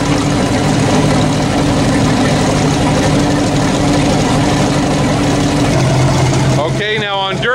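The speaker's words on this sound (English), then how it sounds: "Starboard engine runs great," An old boat's starboard engine idles loudly and steadily up close, a constant heavy drone whose pitch shifts slightly near the end before a voice cuts in briefly.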